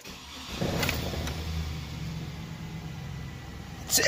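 A 2002 GMC Sierra pickup engine idles steadily at close range with a low rumble, then a brief louder burst near the end.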